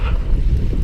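Steady wind gusting across a lake during a canoe trip out from a public boat launch, a loud continuous low rumble of buffeting on the microphone with no pauses.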